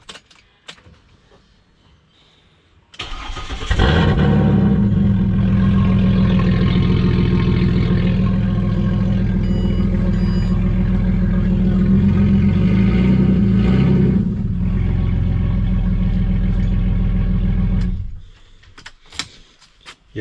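A 4x4 engine with freshly redone exhaust work and new O2 sensors starts up and revs hard. It gives a loud, sustained, deep rumble for about fifteen seconds before dropping back to quiet.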